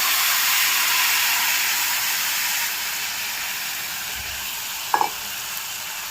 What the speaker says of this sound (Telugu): ఇప్పుడు ఇందులోకి పిండుకున్న పులుసు వేసుకుందాము.